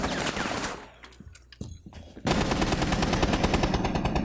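Gunfire in a Rainbow Six Siege tournament match, with bursts of rapid shots at the start, a quieter stretch with scattered single shots, then sustained loud automatic fire through the rest.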